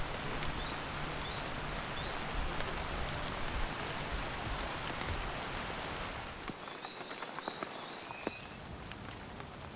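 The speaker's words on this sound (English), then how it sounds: "despite the torrential tropical rain" Torrential tropical rain in Madagascar lemur forest, a steady dense hiss of downpour that eases and thins toward the end, leaving scattered drips and faint bird calls.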